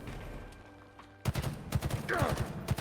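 Gunfire and a grenade in the Halo video game during a Slayer match: after a quiet opening, a dense run of sharp, rapid shots and bursts breaks out and keeps going to the end.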